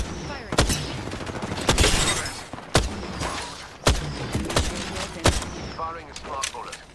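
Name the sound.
smart bullet gunfire in the video game Apex Legends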